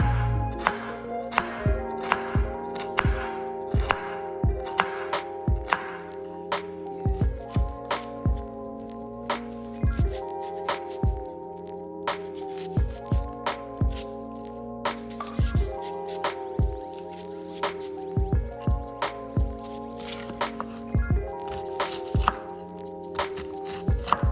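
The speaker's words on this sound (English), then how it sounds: "let's get these veggies chopped up" Vegetables being chopped for crockpot chicken and dumplings, with sharp knife strikes on a cutting board in steady quick runs and short pauses between bursts, while music plays underneath.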